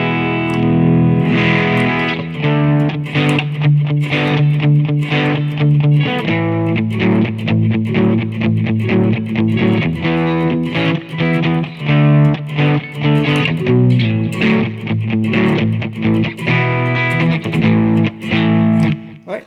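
Crunchy, overdriven blues electric guitar played through a BOSS eBand JS-10 with hall reverb, sustained chords and runs ringing loud and continuous with no talk.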